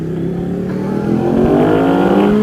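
A carbon-bodied Ducati Panigale motorcycle engine revs up steadily and loudly, its pitch climbing smoothly over a couple of seconds with no talking.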